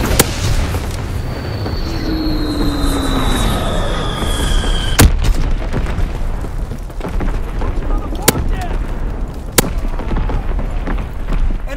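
Gunfire in an MP40-themed war video game, with a sharp loud shot cracking over a dense battle ambience and two more later, amid steady rumble, passing whistles and game radio-style callouts.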